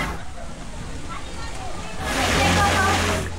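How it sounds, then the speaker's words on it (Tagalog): Resort pool water in Compostela, Cebu spills over a ledge into a lower pool like a small waterfall, a steady rushing splash that swells louder halfway through, with faint background voices. "Ang tubig na pool nga gamay sa babaw nya ang tubig munaog po diri sa ubos. Na sila murag waterfall effect."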